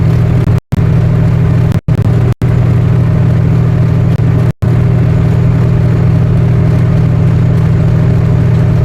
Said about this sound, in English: so the turbo spools, you know, builds up a lot of that pressure